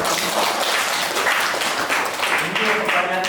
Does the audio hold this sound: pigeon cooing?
no